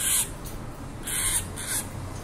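A pink Bourke's parakeet chick gives a few harsh, high squawks while being fitted with a leg band. The cries come in short bursts close by, with quieter handling noise between them.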